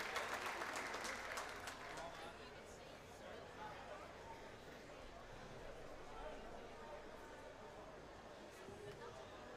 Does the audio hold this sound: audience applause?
yes